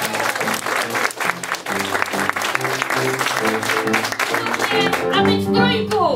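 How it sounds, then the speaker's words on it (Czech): Audience applause at the opening of a Czech improv match, a dense continuous clapping from a hall full of people that holds for several seconds and swells near the end. "Teď vás poprosím o potlesk síly číslo 2."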